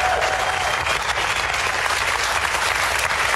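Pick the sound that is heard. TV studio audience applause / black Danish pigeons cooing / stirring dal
TV studio audience applause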